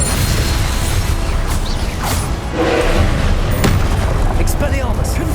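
Spell casting in Hogwarts Legacy, with Incendio fire bursts and Levioso lifting magic layered into a dense, loud stream of whooshes, crackles, creaks and booms during combat.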